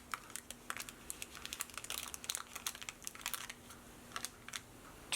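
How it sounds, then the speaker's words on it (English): Wax paper crinkles and crackles in quick, close bursts as it is wrapped and pressed around a paintbrush to mold the bristles back into shape; soft, fairly quiet handling with no talking. "Carefully wrap the wax paper around the brush, molding the bristles back to their original shape"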